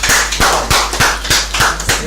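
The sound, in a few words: audience applause at a meeting event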